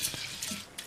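Water splashes and swishes in a bowl as split mung lentils are rinsed, a short, soft sloshing sound at close range.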